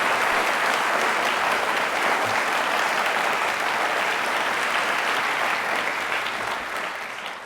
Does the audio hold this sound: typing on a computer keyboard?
no